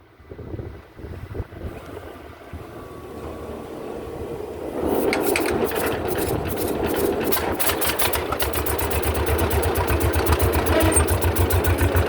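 A John Deere B tractor engine runs steadily at a medium idle, its rapid putting pulse loud and close; quieter rumble and handling noise come first, then the engine picks up and holds an even rhythm to the end.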